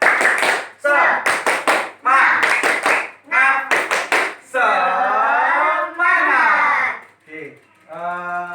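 A class of primary school children doing a rhythmic spirit clap pattern, sharp bursts of group claps in quick clusters alternating with loud chanted voices, close and energetic.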